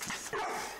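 A dog named Candy barks on command, giving a short burst of sharp, close barks and yips with no talking over them.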